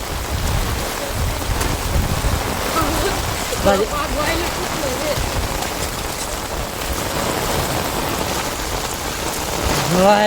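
Heavy monsoon rain pours steadily onto surfaces amid flooding, a loud, continuous hiss with dense drops; a faint voice briefly surfaces beneath the downpour.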